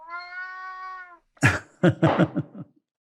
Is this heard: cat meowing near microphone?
yes